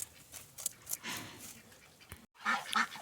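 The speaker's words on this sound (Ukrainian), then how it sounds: "Гусочки, качечки випустили, трішки попастися" Geese and ducks honk and quack in short, scattered calls nearby, mixed with rustling and movement noises, briefly cutting out before resuming.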